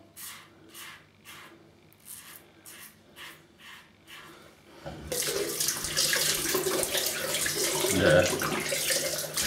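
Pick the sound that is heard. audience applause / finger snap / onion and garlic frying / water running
water running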